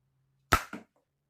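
A homemade spray-can pressure gun fires one sharp, loud pop, followed by a brief second burst and then silence.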